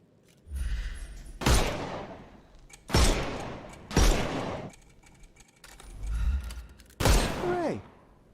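Gunfire in the Sherlock Holmes Chapter One video game: five loud, sharp shots in separate bursts, each with a long decaying tail, separated by quieter gaps with faint game ambience.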